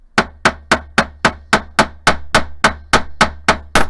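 A chasing hammer strikes earring hoop wire in a steady run of about thirteen sharp metallic blows, evenly spaced roughly every third of a second, loud and close with no talking.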